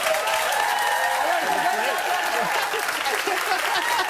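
Steady, dense studio audience applause from a daytime talk show in December, clapping evenly throughout with a few voices mixed into the crowd.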